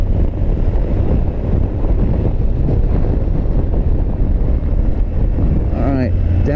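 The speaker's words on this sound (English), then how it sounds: "the wind is quite brutal" Strong wind roars into the microphone on a 2022 Triumph Tiger 900 Rally Pro motorcycle riding on the street. The buffeting is loud, dense and steady, with a faint rising engine tone near the end.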